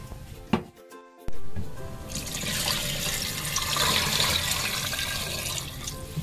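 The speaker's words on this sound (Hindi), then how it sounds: "तो पानी मैं और डाल रही हूँ इसमें।" Water poured into a cooking pot while making Lahori beef nahari, a steady splashing stream that starts after a few clinks and runs on for several seconds close by.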